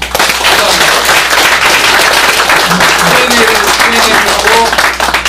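A lecture audience applauding a former presidential policy chief, a dense, loud, continuous round of clapping filling the room, with some voices mixed in.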